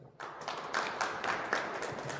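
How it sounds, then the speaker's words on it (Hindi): An audience at a marriage preparation talk claps, producing a faint, steady patter of applause. "इनके लिए तालियां बजाइए"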